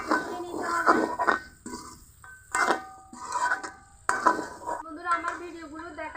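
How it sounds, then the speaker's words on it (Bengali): Chicken pieces stirred and fried with spices in a pot, with a spoon scraping and clanking against the metal in irregular bursts and soft sizzling between strokes, close and clear. "মাংস দেওয়ার পর আরও কিছুক্ষণ ভালো করে কষিয়ে নিতে হবে।"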